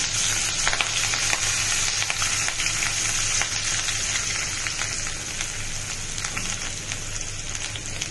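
A green chili fries in oil with asafoetida, a dense continuous sizzle and fine crackle that holds at a fairly loud, even level throughout.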